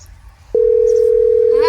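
Once a number is dialed, a telephone line tone begins after a short pause and holds as one loud, steady, unbroken electronic hum to the end, with a faint voice just as it stops.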